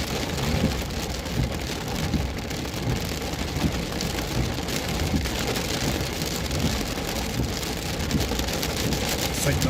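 Heavy storm rain pours down in big drops, a loud, dense, continuous hiss and patter on surfaces during a southern Illinois/Indiana tornado-watch storm, with no breaks.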